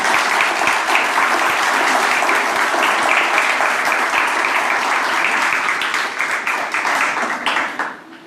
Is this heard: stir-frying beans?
no